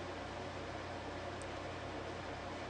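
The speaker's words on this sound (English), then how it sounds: "It sucks that the air conditioner is too loud" An air conditioner runs loudly and steadily, a constant broadband hiss with a low hum underneath and no talking.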